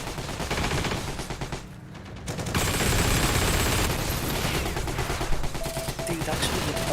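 PPSh-41 submachine gun fire in the World War II shooter Heroes & Generals, with rapid bursts and volleys of gunfire running almost continuously and loudly, other shots mixed in and a voice talking underneath.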